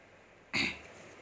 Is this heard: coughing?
yes